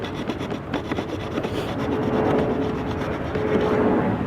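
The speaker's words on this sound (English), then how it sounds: "Can it even saw with these serrations?" A serrated Gerber Mark II dagger saws across a surface, giving a steady, continuous rasping scrape at moderate level that runs unbroken and alone for the whole stretch.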